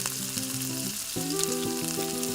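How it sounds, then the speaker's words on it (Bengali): Oil sizzles steadily as chopped vegetables fry in a wok, a continuous crackling hiss with faint tonal hum underneath. "আবারও কড়াইতে তেল দিয়ে আগের থেকে কেটে ধুয়ে রাখা সবজিগুলো এক এক করে ভেজে নেব"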